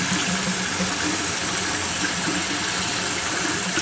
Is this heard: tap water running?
yes